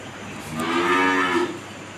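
A Holstein Friesian cow gives a single drawn-out moo lasting about a second, fairly close and clear, rising and fading against a quiet farmyard background with no talking.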